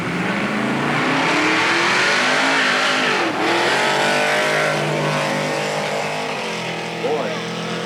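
Drag racing cars roar down the Centerville dragway in 2000, a loud continuous engine blast that rises as they accelerate, with a race announcer talking over the noise.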